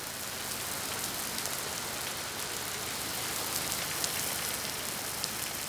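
Steady rain falls on the Janghang wetland, a dense even hiss with scattered close droplet ticks, no voices.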